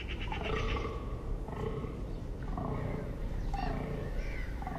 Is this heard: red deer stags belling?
yes